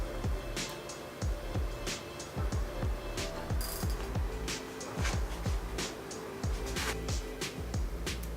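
Torque wrench ratcheting on the timing belt tensioner of an RB20DET engine build, a rapid series of close mechanical clicks in repeated bursts with short pauses between strokes.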